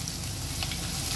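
Ginger and garlic fry in a pan with a dense, even sizzle that stays steady and close through a brief moment, with no voices.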